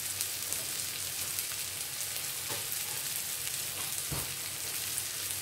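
Masala-coated fish frying on low heat in a pan, a faint, even crackling sizzle with a couple of soft pops, continuous and quiet.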